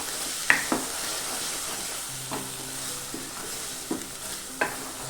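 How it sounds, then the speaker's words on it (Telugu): Spinach and onion masala frying in oil in a pan, with a soft continuous sizzle broken by several sharp scraping stirs of a spoon, fairly quiet and close. "మనకు ఇలా నూనె తేలేంత వరకు బాగా ఈ పాలకూర ఉల్లికారాన్ని వేపుకోవాలి."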